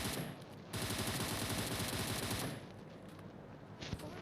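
An M762 rifle fires a long rapid burst in a battle royale shooter game, a dense continuous rattle lasting under two seconds, followed by quieter background noise and a single later shot.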